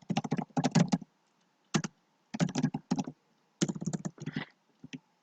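Bursts of computer keyboard typing while filling in a text box in Scribus, clustered keystrokes in quick runs separated by short pauses, close and fairly loud, with no voices.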